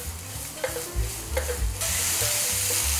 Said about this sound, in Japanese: オイルが熱されたら人参を炒めていきます